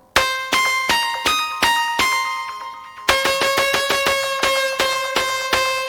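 Afterlife-style synth with its second oscillator soloed and pitched up seven semitones, sounding a bright, bell-like sequence of repeated plucked notes that ring and fade, shifting to a lower pitch midway, close and clear with no talking.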